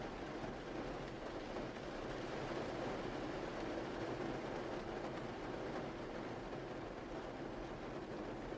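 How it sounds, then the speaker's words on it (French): Steady rain falling, a soft continuous hiss with a low rumbling undertone, faint and unchanging throughout with no voices. "Continuez de vous laisser bercer par le son de la pluie"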